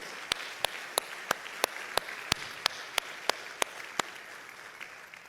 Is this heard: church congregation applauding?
yes